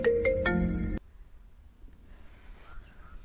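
A short electronic phone ringtone plays loudly in the first second, a bright melodic burst, then cuts off to quiet background with faint insect chirping.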